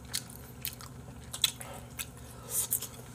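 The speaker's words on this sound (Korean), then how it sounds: "연근이 좀 울렁울렁할 줄 알았는데 아삭아삭하네요" Crunchy lotus root is chewed during a malatang mukbang, giving close, crisp biting and chewing clicks in a quick irregular run, alone without talk.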